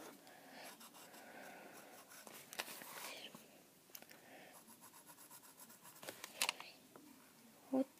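A blue colored pencil shades a hand-drawn eye on paper, making soft, quiet scratchy strokes in uneven bursts, with faint low talking alongside.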